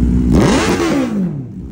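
A motorcycle exhaust revs up hard and falls back, a loud, close throttle blip with rising and falling engine pitch, no voices.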